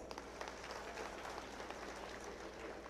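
A crowd claps steadily to welcome a Warkari pilgrim who has kept up an unbroken pilgrimage for five years, producing a dense, continuous patter of many hands at a fairly even level throughout.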